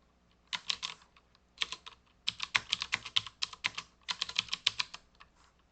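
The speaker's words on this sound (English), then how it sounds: "Start typing." Quick bursts of keystrokes on a computer keyboard, typing in short irregular runs with brief pauses, close and clear in a quiet room.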